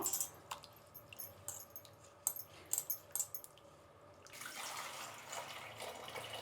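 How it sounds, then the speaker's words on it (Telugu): Soaked flattened rice is washed in water and drained close by, with soft splashes and squishy drips in the first seconds, then a steadier gush of water pouring off as it drains. "కడిగేసి నీళ్ళు వంచేసి వలగేసేద్దాము"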